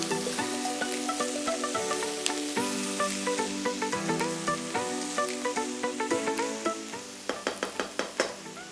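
Capsicum, snow peas and carrot sizzle in a hot pan for orange fried rice, a steady close fry broken by repeated clanking scrapes and taps of a utensil tossing the vegetables, the strikes coming faster toward the end.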